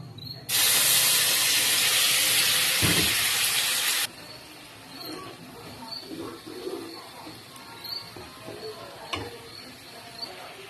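Spice paste poured into hot oil with a bay leaf gives a sudden loud, steady sizzle that holds for several seconds and then drops to a faint, crackling fry with occasional small pops.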